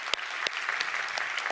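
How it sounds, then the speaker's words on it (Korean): Church congregation clapping in praise after a scripture reading, a steady wash of many hands with a few sharper claps standing out, filling the room for a brief moment without any voices. "우리 하나님께 감사와 영광의 박수를 보내드리겠습니다"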